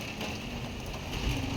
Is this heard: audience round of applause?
no